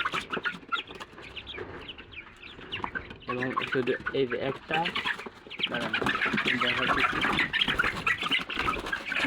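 Black Australorp chickens cluck steadily in the background while a person talks over them, the flock growing busier and louder toward the end.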